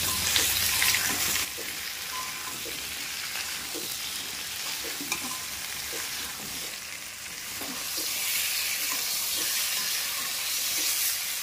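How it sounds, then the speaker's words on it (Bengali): Pumpkin, potato and Malabar spinach stalks fry in a pan, giving a steady close sizzle and hiss with occasional stirring scrapes. "পুঁই শাকের ডাঁটাগুলিকে দিয়েও কিন্তু 2-3 মিনিট ধরে খুব ভালোভাবে আমি কষে নিচ্ছি।"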